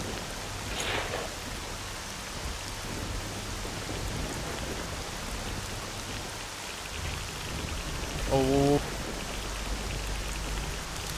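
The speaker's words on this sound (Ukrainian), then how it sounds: "Дощик іде." Steady rain falls in the video game S.T.A.L.K.E.R.: Shadow of Chernobyl, a continuous hiss of drops on surfaces that runs the whole time, with a brief voiced exclamation near the end.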